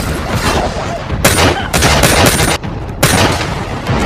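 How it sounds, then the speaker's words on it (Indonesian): Loud gunfire from the action film Wrath of Man, with close, sharp bursts of shots cracking in quick succession over a tense, noisy background. "dengan santai Hill mencari perampok itu dan menembak kakinya"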